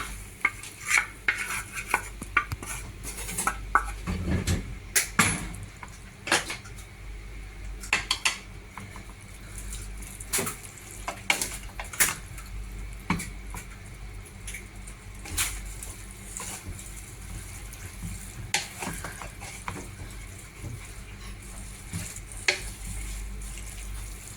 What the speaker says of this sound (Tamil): இப்போ இதை எடுத்து நான் மிக்ஸ் பண்ண போகிறேன்